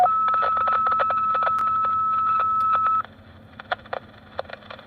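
A radio scanner plays fire department dispatch paging tones: a loud, steady sustained tone for about three seconds, then quieter crackling radio bursts.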